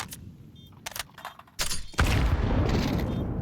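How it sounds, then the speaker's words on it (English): A grenade blast in Counter-Strike during an ESL Pro League match, a sudden loud broadband boom that swells and stays dense, following scattered sharp gunfire bursts. "Look at that nade that's just coming towards Zyphon."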